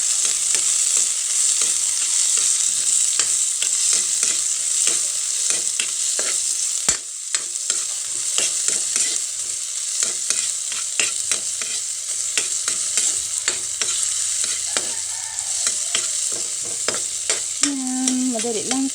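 Sardines and vegetables sauté in a pan with a steady, loud broadband sizzle, and utensil stirring adds a rapid run of scrapes and clicks. Near the end a brief tonal sound rises over the frying.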